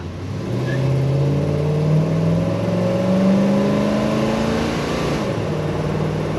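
A 1965 Chevy Malibu SS engine revs up and holds a rising, droning tone as it accelerates, loud and close, with no voices.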